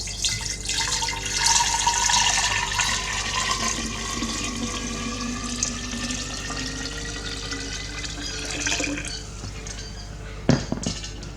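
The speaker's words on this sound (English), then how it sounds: "Let's fill it up with water." Water runs steadily into a glass jar under a dome, a continuous filling rush that slowly rises in pitch as the jar fills, followed by a brief clunk near the end.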